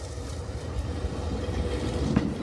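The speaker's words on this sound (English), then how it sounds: "here comes the morning train." A train pulls into a snowy Hokkaido station with a continuous low, heavy rumble and a faint rolling clatter, moderately loud and steady throughout.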